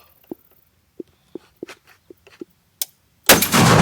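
A single sharp, loud gunshot from a firearm fired at a range, cracking in suddenly near the end and ringing out broadly after several faint clicks and taps of handling.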